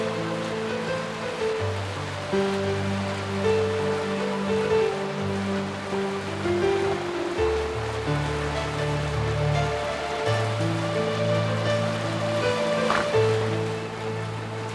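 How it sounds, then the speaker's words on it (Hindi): Heavy rain pours steadily in a horror audio drama, a continuous wet hiss beneath low sustained musical tones that swell and shift throughout. "उस दिन बड़ी तेज बरसात हो रही थी"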